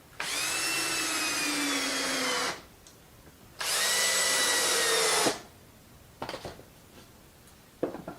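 A power drill drives screws into 2x4 lumber in two long, loud, steady whirring bursts of about two seconds each, with a short gap between them, then faint clicks and knocks from handling.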